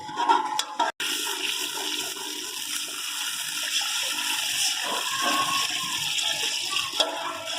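Water pours steadily into a cooking pot for fish curry in one continuous, splashing stream after a brief clatter at the start.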